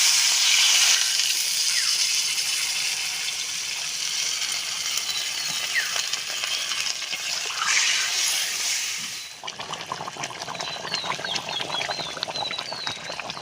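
Steady loud hiss of steam as water is added to potatoes frying in a pan for a vegetarian aloo dum, the sizzle easing slightly toward the end with faint chirps behind it.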